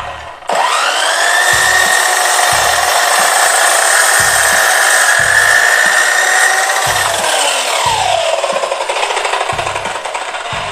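An Einhell TC-SM 2534/1 dual miter saw spins up to a loud steady whine, bites through a piece of wood for several seconds, then its pitch drops as the blade winds down, with no talking.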